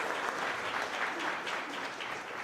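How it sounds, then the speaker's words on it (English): A crowd claps steadily for a volunteer team at a National Park Service cherry blossom festival announcement, a dense even wash of applause somewhat distant and soft. "that deserves a round of applause"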